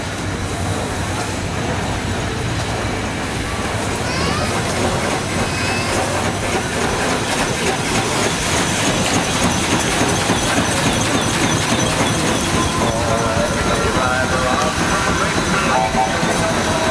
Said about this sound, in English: 3 stationary steam engines, each driven straight from their boilers